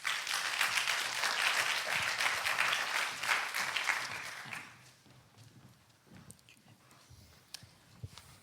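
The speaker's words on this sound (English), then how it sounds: "On peut l'applaudir." An audience at a health and sea conference applauds a speaker coming on stage, a dense wash of clapping for about four seconds that fades to a few scattered claps and room shuffling.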